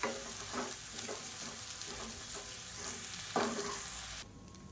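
Masala coconut rice with chopped coriander leaves being stirred in a pan, soft repeated scraping and gentle sizzling strokes at close range, fairly quiet, ending abruptly.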